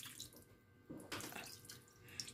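Water is poured into a cooking pot of adobong puti, Filipino white adobo seasoned with fish sauce, making a quiet, close splashing and trickling pour with no talking.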